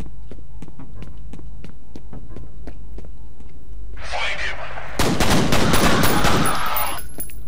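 Pistol gunfire in the video game F.E.A.R.: a regular series of sharp single shots over a low hum, followed by a burst of louder, denser shooting and a roaring blast near the end.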